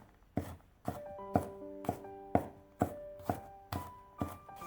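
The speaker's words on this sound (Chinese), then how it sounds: "再改刀切成蒜末" A knife chops peeled garlic cloves into mince on a cutting board, nine sharp, evenly spaced knocks ringing out about every half second, close and loud with no talking.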